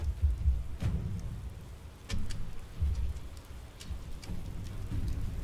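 Rain falling in the video game Fallout 76, a steady close patter with a few sharper drop hits and low rumbling swells, no voices.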